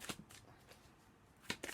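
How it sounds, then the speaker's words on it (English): Tarot cards are riffled and shuffled by hand in quick bursts, a crisp flutter at the start, lighter rustles in the middle and another sharp burst near the end, close and with no talking. "You're shuffling too fast."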